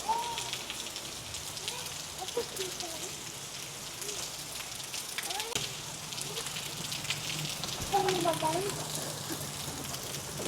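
Steady rain falls outdoors as a continuous broadband hiss, with occasional faint voices and street noise underneath.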